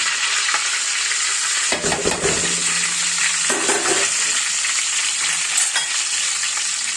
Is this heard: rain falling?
no